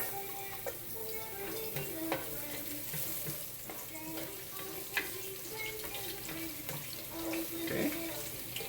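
Garlic for chicken tinola sizzles in a hot pan, a steady close frying hiss broken by scattered clinks and stirring scrapes.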